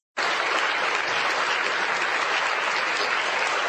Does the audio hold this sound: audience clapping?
yes